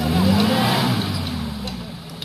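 A 4x4 off-road vehicle accelerates on a rough track in the Cantal, its engine a loud, steady low drone that eases off slightly, while people talk over it.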